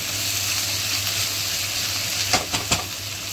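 Food frying in a pan gives a continuous hissing sizzle, broken near the end by a few sharp clatters as it is stirred, with no talking.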